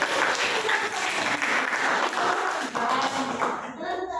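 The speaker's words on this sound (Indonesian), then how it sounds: "Tepuk tangan buat kelompok menggambar." A classroom of students claps in a sustained, even round of applause for a drawing group, with a voice briefly audible underneath.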